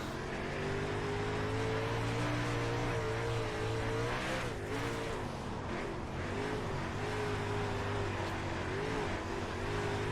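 A dirt track race car engine in the iRacing video game, at Oswego, drones steadily through a lap with harmonic pitch rising and falling as the throttle works, a brief dip and recovery midway, and no talking.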